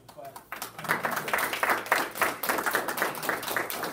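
Clapping breaks out at a school board of education meeting after a moment of quiet, a moderate patter of several people's hands that carries on steadily.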